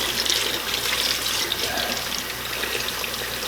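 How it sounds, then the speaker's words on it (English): Water runs from a sink faucet in a steady, loud hissing splash that continues unbroken throughout, with no voices. "let me put some water underneath the sink here to see what it's going to do"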